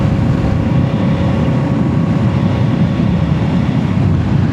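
Kawasaki Z650 motorcycle cruising in fifth gear around 45 mph at 3,000–4,000 RPM, with a steady, continuous engine drone mixed with heavy wind rush, loud and close throughout with no pauses.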